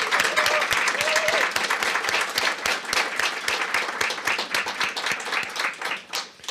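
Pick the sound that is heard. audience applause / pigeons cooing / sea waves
audience applause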